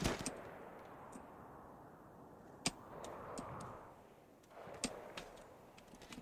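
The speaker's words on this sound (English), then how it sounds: "your turret could just shoot it. Shoot the wild boar." A defensive turret in the colony game RimWorld fires at a wild boar: scattered sharp, crisp shots at irregular intervals over a steady, faint hissing backdrop.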